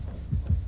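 A game heartbeat from Dead by Daylight thumps low and muffled, two throbbing beats in quick succession over a dull hum, close and steady with no voices.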